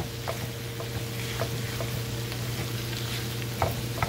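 Italian sausage sautéing in a pan for cornbread dressing, giving a steady close sizzle under a low constant hum, with occasional light scrapes and taps of a utensil breaking up the meat.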